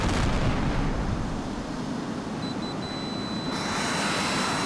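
A missile striking an enemy aircraft in the HAWX combat flight game, a loud rumbling blast that fades into a sustained roar, with a thin electronic beeping tone over the tail.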